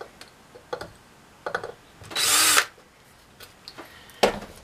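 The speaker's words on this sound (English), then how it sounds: "you can take a special screwdriver bit," A power screwdriver fitted with a special bit backs screws out of a mini portable power plant housing in one steady, loud whir of about half a second, surrounded by short clicks and handling taps.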